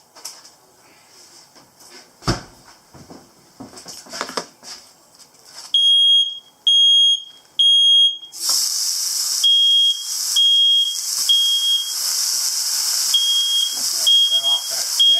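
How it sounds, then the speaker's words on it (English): A smoke alarm sounds in a steady series of loud, piercing beeps while steaks fry in a pan in an off-grid house, with a bright sizzling hiss rising underneath. Quiet clatter and a voice come before the alarm starts. "Set off that damn alarm."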